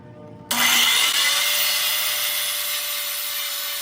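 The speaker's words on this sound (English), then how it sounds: "We're going to cut a 45-degree miter on just one side to start with." A power saw starts abruptly and cuts a 45-degree miter in wood for a floating picture frame, giving a loud, steady, close whine that eases slightly as the cut goes on.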